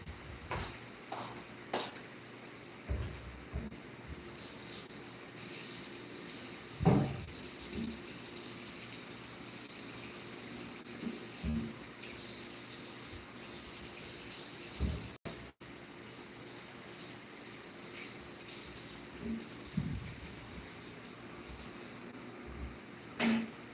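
Peppers rinsed under a running kitchen tap: a steady, moderately quiet stream of water with occasional soft clunks and splashes as the vegetables are handled, no talking.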